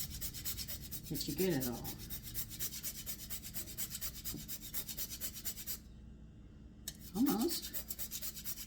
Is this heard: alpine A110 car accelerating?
no